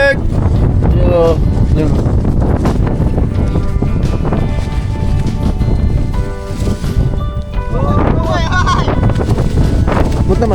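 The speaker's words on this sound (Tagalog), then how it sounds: "Wala, sobrang lakas ng hangin." Strong, cold mountain gusts on Mt. Kilang in Calanasan, Apayao, roar and buffet the microphone in loud, continuous bursts while people talk over the wind.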